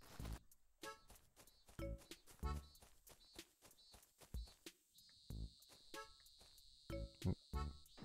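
Cicadas buzz in a steady high drone across the second half, set in the Animal Crossing City Folk game world, with short rhythmic footstep-like taps recurring throughout.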